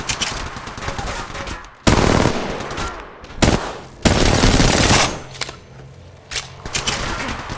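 Repeated bursts of automatic gunfire from the mobile battle royale game Apex Legends Mobile, loud and close, with several sharp volleys separated by brief gaps and a steady crackle underneath.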